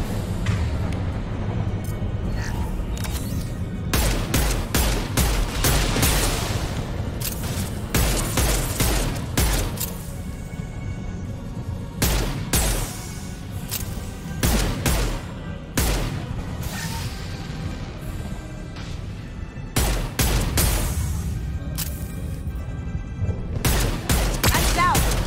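Rapid bursts of pistol fire from the video game Mass Effect Legendary Edition, loud clusters of shots repeating every few seconds over continuous game background noise.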